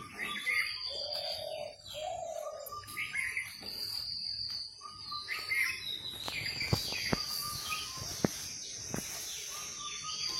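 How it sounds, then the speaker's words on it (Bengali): Birds call repeatedly outdoors, with varied chirps and whistles over a constant background of insect trilling and a few sharp clicks. "পাখিতে ডাকতেছে কি সুন্দর।"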